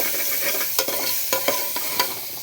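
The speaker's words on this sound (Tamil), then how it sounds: "நல்லா போட்டு வதக்கிடணும்." Onion, tomato, green chilli, ginger and garlic sautéing in a pan, a soft continuous sizzle broken by several sharp spoon scrapes and stirs.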